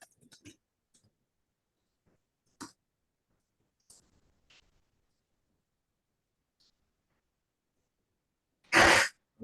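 One sharp, loud sneeze bursts out near the end of an otherwise quiet room on a hybrid Zoom meeting, after scattered faint clicks and breaths.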